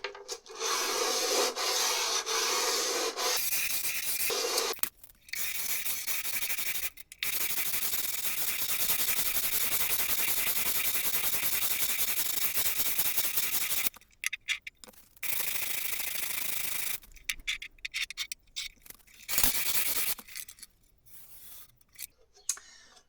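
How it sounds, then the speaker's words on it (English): A violin fingerboard is sanded with 150-grit paper wrapped around a block, giving close, steady rasping strokes in long runs broken by short pauses, then quicker, choppier strokes near the end. "I'm going to start with 150 grit, wrap it around my block, and then start to sand the surface"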